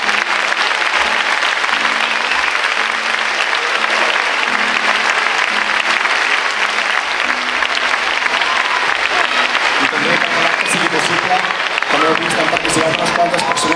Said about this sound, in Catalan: un grandíssim aplaudiment i reconeixement per la Bena i l'Ariadna per tot el seu esforç per ensenyar